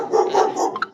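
A pet dog at a relative's house gives a brief close yelp or bark, a short burst ending in a sharp yip.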